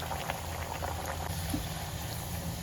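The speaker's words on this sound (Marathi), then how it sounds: "ह्या पद्धतीने तेल तापले आणि एक एक पुरी सोडून घ्यायची." Puris made with moong dal and fenugreek dropped one by one into hot oil, giving a steady, dense sizzle and bubbling hiss that stays even throughout, close up, with no talking.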